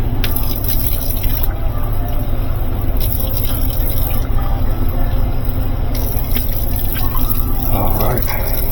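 A coffee cup is rinsed out under a running tap at a truck stop sink, water splashing and dripping steadily close by over a constant low hum, with someone talking at times.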